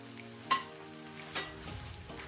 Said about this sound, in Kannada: ಈಗ ನಾವು ರೆಡಿ ಮಾಡಿಟ್ಕೊಂಡಂತ ಸೀಸನಿಂಗ್ ಒಗ್ಗರಣೆಯನ್ನು ಮೇಲಿಂದ ಹಾಕೊಳ್ಳುವ.